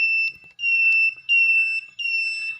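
An IoT gas leak detector alarm sounds loudly and close: piercing high electronic tones in repeated on-off bursts of about half a second, with a brief gap between each beep.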